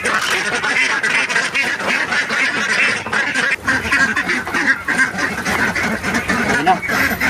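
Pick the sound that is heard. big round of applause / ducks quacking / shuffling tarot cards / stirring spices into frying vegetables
ducks quacking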